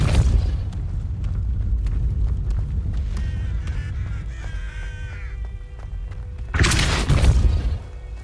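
A Depulso spell cast in Hogwarts Legacy lands as a loud, brief broadband burst near the end, rising out of steady game ambience with faint tonal chimes.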